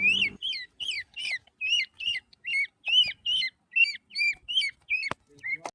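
A peacock chick gives a rapid series of short, high, squeaky peeping calls, repeated about a dozen times in a steady rhythm, close by with a faint background.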